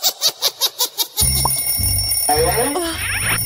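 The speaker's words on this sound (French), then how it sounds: "le réveil sonne" An alarm clock rings in six sharp, evenly spaced bursts that stop abruptly, after which a low rumbling music bed and a chirpy cartoonish effect take over.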